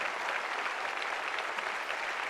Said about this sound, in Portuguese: Vamos aplaudir forte, igreja.